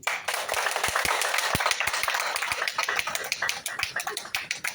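A smaller audience at an official staff ceremony claps, individual sharp hand claps standing out over a dense patter that gradually thins toward the end.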